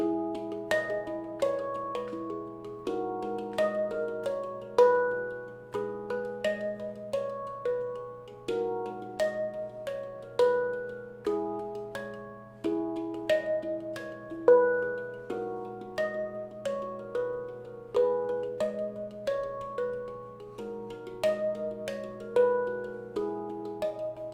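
A handpan plays a repeating rhythmic pattern of ringing metallic tones, with soft ghosted taps tucked between the louder struck notes over a low sustained drone.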